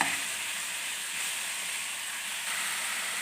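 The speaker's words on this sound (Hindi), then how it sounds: "गाजर को हम 2 मिनट के लिए फ्राई करेंगे।" Carrots frying in a pan for Afghani Kabuli pulao, a steady close sizzle and hiss running the whole time with no talk.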